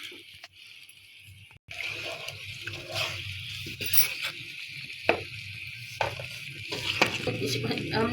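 Carom seeds (ajwain) frying in mustard oil, giving a steady soft sizzle with crackling pops and occasional stirring clicks, close and moderately loud, with no talk.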